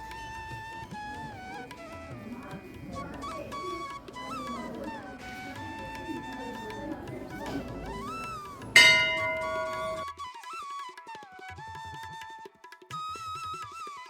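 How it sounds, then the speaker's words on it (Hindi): Temple bells ringing at the Jhula Devi temple in Ranikhet, bright metallic tones sounding repeatedly and overlapping, with one sharp loud strike partway through before the ringing continues over a quiet background. "मंदिर के साथ लगे शंभू सदाशिव मंदिर में भी घंटियां लगी हुई हैं।"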